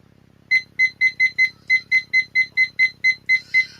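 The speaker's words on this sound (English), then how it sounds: "I am using my timer because with biscuit" A kitchen timer beeps during biscuit baking, giving a quick series of about a dozen sharp, evenly spaced electronic beeps, close and loud over a faint low hum.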